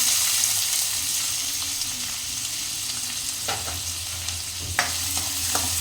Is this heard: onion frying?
yes